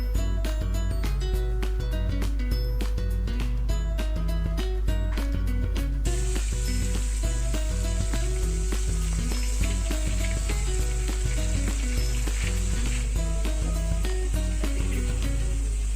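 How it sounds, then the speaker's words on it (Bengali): Rohu fish pieces sizzle in hot oil in a pan, a steady hiss that starts partway through and runs on under loud rhythmic background music. "অল্প করে দিয়ে সুন্দর করে ভাজবো আর কি মাছটা"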